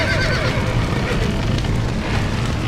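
Horses neigh and whinny in the GTA da Roça video game, with loud, steady game noise filling the background throughout.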